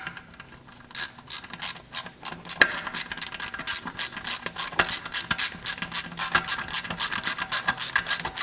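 Socket wrench ratchet tightening oil pump bolts on a Chrysler FWD 3.2/3.6 engine, a rapid run of close, loud clicking strokes repeated steadily throughout.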